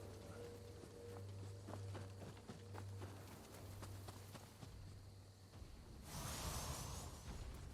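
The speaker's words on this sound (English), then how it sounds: "I hear footsteps, heavy ones." Heavy in-game footsteps from the dungeon-crawler Moonlighter, a series of dull thuds in an irregular walking rhythm over a steady low hum, with a brighter rushing burst near the end.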